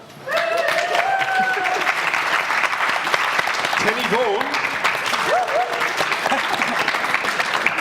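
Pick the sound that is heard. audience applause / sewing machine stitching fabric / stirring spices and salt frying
audience applause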